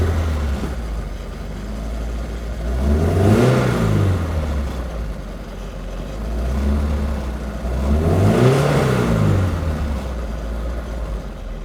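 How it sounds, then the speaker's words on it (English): A vintage race car engine revs up twice in long swelling surges, rising and falling in pitch between steadier running, loud and close with no talk. "One of my favorite things about this car is the sound, and it just sounds beautiful."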